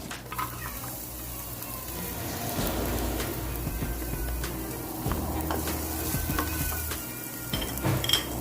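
Onion frying in a pan for tuna mushroom pasta, a steady close sizzle with intermittent stirring and scraping of a utensil against the pan throughout, no voices.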